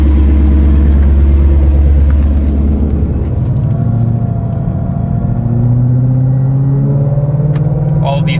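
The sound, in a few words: 2020 Ford Shelby GT500 Mustang engine rumbling as it drives off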